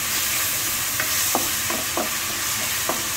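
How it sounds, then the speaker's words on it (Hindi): Garlic sizzles steadily in hot oil in a pan for a tadka, with a handful of sharp scraping clicks from stirring breaking through the close, continuous frying hiss. "लहसुन का जो तड़का लगता है या लहसुन की भुनाई होती है"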